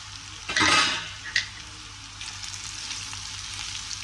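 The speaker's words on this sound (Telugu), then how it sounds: "బంగాళదుంప ఫిఫ్టీ పర్సెంట్ అయితే ఫ్రై అయిపోయిందండి మనం ఇప్పుడైతే దీనిలో సాల్ట్ వేసేసుకున్నాము" Potatoes frying in a pan with salt added, a steady close sizzle with a brief louder burst of stirring near the start, then a softer continuous crackle with no talking.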